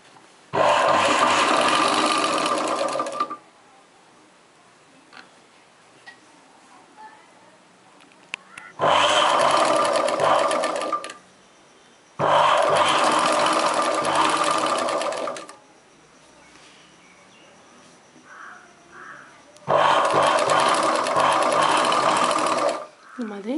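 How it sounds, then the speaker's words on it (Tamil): A sewing machine stitches a chudidar top in four separate loud whirring runs, each lasting a few seconds, with quiet gaps between them where someone speaks. "இப்போ இதில் தையல் போட்டுக்கலாம்."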